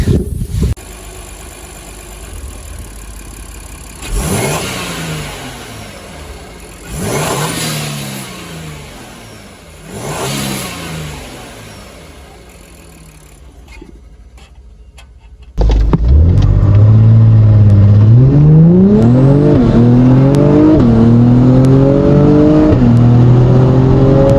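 An Acura TLX Type S engine with a drop-in air filter revs in several short bursts, then roars into a loud, sustained acceleration with rising pitch and gear changes, close by.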